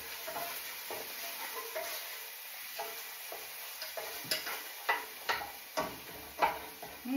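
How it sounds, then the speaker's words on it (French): Food being stirred in a pan, with soft scraping and tapping strokes that grow more frequent and distinct toward the end over a faint, steady background hiss, close but quiet. "Je vais quand même mélanger, ça ne m'inspire pas trop confiance."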